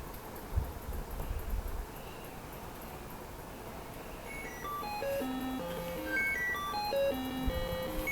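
A Naada Brahma tone box in reverse mode plays a descending scale of thin electronic beeps, quiet against a steady background hiss, after a couple of low thumps at the start.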